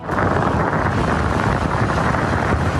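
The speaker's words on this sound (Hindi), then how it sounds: "शहर में 50 से 70 किलोमीटर फी घंटा की रफ्तार से तेज हवाओं के झक्कड़ चल पड़े।" Strong, dusty gusts of a windstorm sweep through Karachi, a steady, loud roar buffeting the microphone without pause and with no voices.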